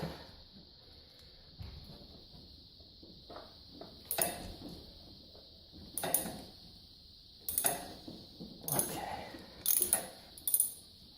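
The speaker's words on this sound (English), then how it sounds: "So it just clips right onto my 3/8 inch ratchet, and make sure you put it in the loosen mode." A 3/8 inch ratchet works a part loose on a John Deere X320 lawn tractor. Several short bursts of metallic clicking come close to the microphone, with quiet handling between them.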